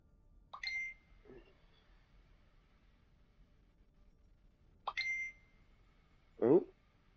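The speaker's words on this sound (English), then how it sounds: "phone's making sounds." A phone plays two matching chime-like notification tones several seconds apart, each with a brief blip after it, faint against a quiet background.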